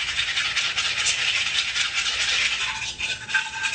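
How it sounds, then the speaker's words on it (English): Whisk beating a homemade salad dressing with green apple in a bowl, a fast, continuous scraping rattle held close and loud, slightly easing toward the end. "And then whisk that together."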